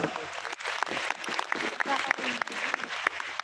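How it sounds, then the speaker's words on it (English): At a regional leadership training event, a room of attendees gives a round of applause for the star leaders. The quick clapping is mixed with voices speaking and calling out throughout. "So let's give them a round of applause."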